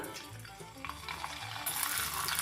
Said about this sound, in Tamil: பாருங்க மேல பொரிஞ்சு வருது